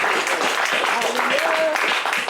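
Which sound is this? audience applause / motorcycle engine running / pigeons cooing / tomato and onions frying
audience applause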